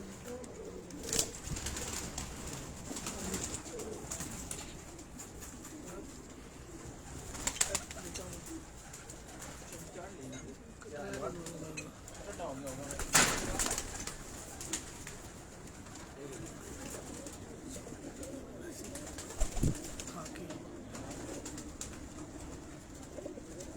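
Teddy pigeons coo on and off with a few wing flaps and sharp clicks, against a steady background hum.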